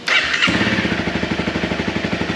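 A motorcycle started with its electric starter: a brief whirring crank, then the engine catches and settles into a steady, close, loud putt-putt idle.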